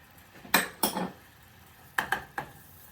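A utensil knocks and scrapes against a pan while flour is stirred into a simmering mixture, five or six close clattering strokes in two short bursts with quiet gaps between.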